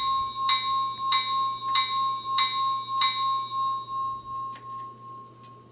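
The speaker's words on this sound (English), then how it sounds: "Bell." A Soundtraxx model locomotive sound car rings its bell in five evenly spaced metallic dings, bright and clear at close range, followed by a few softer trailing strikes over a low electronic hum.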